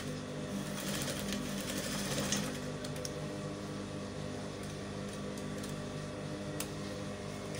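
A sewing machine runs continuously while stitching the armhole of a baby ball gown through several fabric layers, a steady close mechanical whir with faint ticking and no talk.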